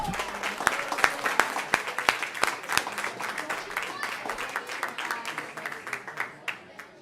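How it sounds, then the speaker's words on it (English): A small group claps at a school committee meeting, sharp individual hand claps forming a moderate, uneven round that thins out toward the end, with faint talk underneath. "which deserves a round of applause"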